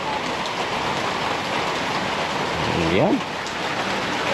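Steady rain pours on a house construction site where a second floor is being plastered, a dense even hiss close by, with a voice talking briefly under it.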